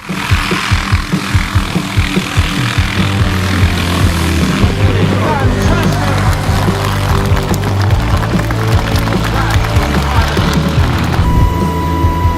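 Military helicopters during air-to-air refueling, a steady loud rotor and engine drone with pulsing low thump, continuous throughout and close.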